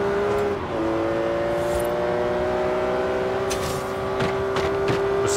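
A car engine in the video game Forza Horizon 3 runs steadily during figure-eight laps, holding a sustained hum that drops slightly in pitch early on, with a few faint clicks and no talk.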